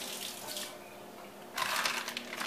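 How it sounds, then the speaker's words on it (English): Smoked sausage rinsed under a running kitchen tap, a steady close splashing stream that briefly lightens and then swells louder as the water hits the sausage. "And I'm going to rinse it off."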